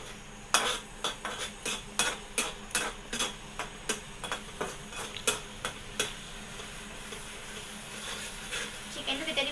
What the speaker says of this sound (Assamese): এতিয়া ধুনীয়াকৈ ভাজি ল'ম মছলাখিনি যাতে চাব জ্বলি নাযায়